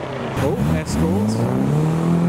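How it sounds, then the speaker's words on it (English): Nissan Skyline R33 cars drive past on a country road with engines revving. The exhaust note climbs and falls in loud, close sweeps as the cars go by. "Sounding R33s in the country."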